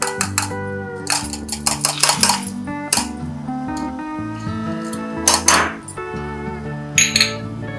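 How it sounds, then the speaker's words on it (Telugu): Spoon clinking against a bowl or pot while custard powder is stirred into cold milk, a run of bright metallic taps and scrapes in bursts over a steady low musical background. "మనం ఇలా కలుపుకుంటూ చేరాలి. ఉండలు కట్టకుండా మంచిగా మిక్స్ చేసుకోవాలి."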